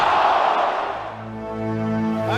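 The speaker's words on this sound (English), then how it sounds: "A capacity crowd" Capacity crowd at a Cincinnati Reds baseball stadium during the 1979 National League playoffs against the Pirates, a loud broad roar that swells early and then settles into a steady murmur with a sustained tone.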